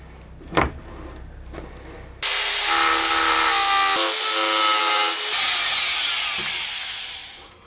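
Power tool trimming a plastic replica axe head, a sharp high whining grind that starts abruptly after a few faint knocks, running loud and close with one brief dip before fading at the end.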